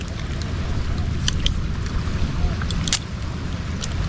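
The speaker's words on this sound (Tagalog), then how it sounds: "Narinig mo, puro hampas na lang na alon." Waves break and wash along a seashore in a continuous, rough, close roar, with wind buffeting the microphone and a few brief sharper splashes.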